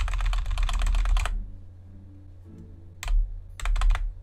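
Fast typing on a cheap LED computer keyboard, close-up bursts of rapid key clatter separated by a quiet gap, with a low hum underneath.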